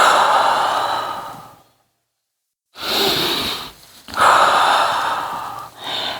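Audible breaths during a mat Pilates exercise class, two long, airy exhalations separated by a short silent pause and a brief dip, close and fairly loud with no talking over them.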